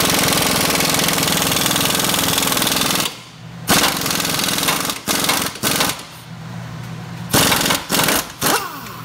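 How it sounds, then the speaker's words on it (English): Ball joint press forcing the old ball joint out of a Ford Explorer's suspension: a loud, continuous pneumatic-style rattling hammer that cuts out abruptly, then returns in several short, loud bursts separated by brief pauses. "we're going to have to go get the ball joint press out and press it out with the ball joint press"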